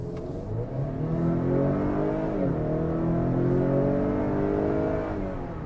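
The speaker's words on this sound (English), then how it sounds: "it makes not a bad noise for a 4-cylinder, 2-liter engine" A 2019 Acura RDX's 2-liter, 4-cylinder engine revs up steadily, its rising drone climbing in pitch as the vehicle accelerates, loud and close, with no talking.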